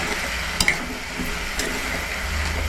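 Washed vaal beans sauté in a pan, giving a steady close sizzle with a couple of brief scraping stirs near the start.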